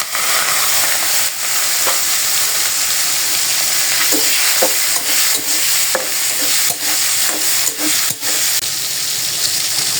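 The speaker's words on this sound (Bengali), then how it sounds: "চুলাতে কড়াই বসায় তেল গরম করে নিয়েছি, এখন এই মাছটা দিয়ে দিচ্ছি" Small shrimp frying in hot oil in a wok, a steady loud sizzle running the whole time with scattered pops and scraping stirs, no voices.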